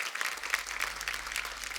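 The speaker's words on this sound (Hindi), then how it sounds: "इतनी ताली बजाने की क्या जरूरत है?" Studio audience applauding on The Kapil Sharma Show, a TV comedy program, as a guest singer is welcomed; steady, dense clapping fills the short stretch at moderate volume with no voices.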